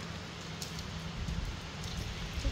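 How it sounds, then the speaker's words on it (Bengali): Rain falling on a rooftop in the afternoon, a steady broadband hiss of drops with faint low rumble, continuous and fairly quiet throughout without any talk. "ছাদে আসতে পারিনি, তার আগেই বৃষ্টি শুরু হয়ে গেছে।"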